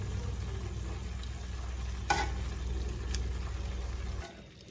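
Leafy garden greens sauteing in a pan give a steady, close sizzle with low stirring rumble throughout, one brief scrape of a utensil, and the frying noise drops away near the end.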